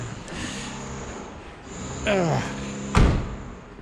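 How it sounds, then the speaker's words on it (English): A 1969 Chevy Impala's door swings shut with one solid thunk near the end, after a quieter stretch of low background noise. "And that door sounds real nice when it shuts too."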